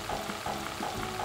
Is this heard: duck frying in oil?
yes